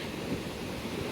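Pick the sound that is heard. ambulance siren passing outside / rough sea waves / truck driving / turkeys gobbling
rough sea waves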